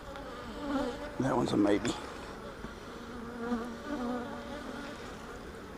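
Honey bees buzzing around an open hive with frames lifted out, a steady close droning hum with fluctuating pitches, while a person speaks briefly over it.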